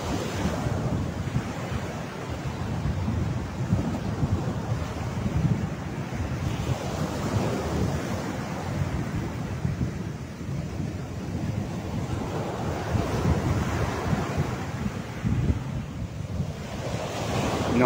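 Ocean waves washing onto a beach in Mexico, a continuous roar of surf with gentle swells in loudness, mixed with gusty wind buffeting the microphone, no voices.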